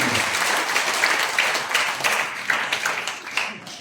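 A church crowd claps loudly and continuously, a dense patter of many hands filling the room throughout.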